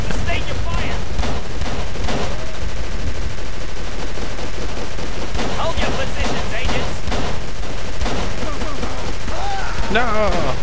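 Soldiers in a Call of Cthulhu video game fire guns in dense, continuous bursts, loud and close, while voices shout over the shooting.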